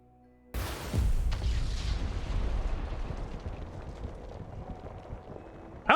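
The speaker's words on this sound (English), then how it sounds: "I like that explosion. It always looks really good." An explosion in the video game Triangle Strategy goes off with a sudden heavy boom after near silence, then a long rumbling, crackling tail that slowly fades, ending in a sharp final burst.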